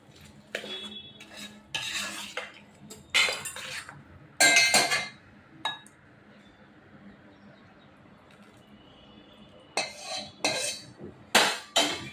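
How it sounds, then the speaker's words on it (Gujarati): A spoon scrapes and clinks against a pan while stirring a sugar syrup mixture for adadiya pak, in several short bursts of metallic clatter separated by quiet pauses. "થોડી વાર આપણે એને બરોબર હલાવતા રહીએ"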